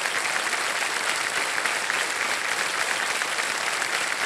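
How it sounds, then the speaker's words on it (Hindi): A studio audience on the quiz show Kaun Banega Crorepati claps steadily, a thick, even roar of applause with no pauses. "तालियां बजती रहें इनके लिए"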